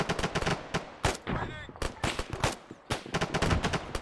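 Rapid gunfire in the military shooter Arma 3 cracks out in dense bursts of sharp shots, some in quick automatic strings, with short gaps between volleys.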